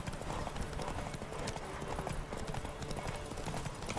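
A horse gallops in The Witcher 3 video game, its hooves beating a fast, continuous clip-clop rhythm, loud and close, with faint game sounds underneath.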